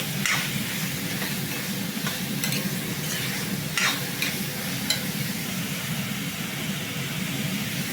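Onions stirred in a hot frying pan for an egg roast, a steady close sizzle broken by a few sharp scrapes of the spoon against the pan.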